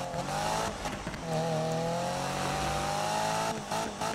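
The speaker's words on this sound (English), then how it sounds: "I say as I bounce off the rev limiter." A Subaru BRZ engine in Need for Speed 2015 revs hard and bounces off the rev limiter, a loud sustained whine that wavers and stutters, alone and close.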